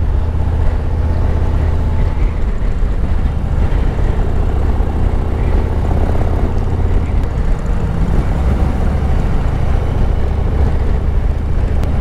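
Loud, continuous low engine rumble from Harley-Davidson motorcycles climbing an Alpine mountain pass at 1500–2000 rpm, steady and unbroken with no talking.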